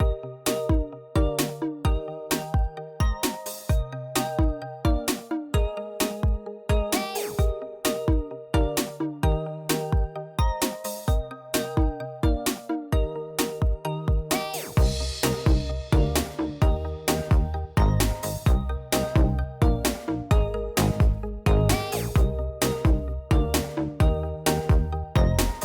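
The bell in the Woodbury clock tower, rung by flipping a switch, strikes loudly and close in a fast, steady, even rhythm, each ringing note overlapping the last for a long run.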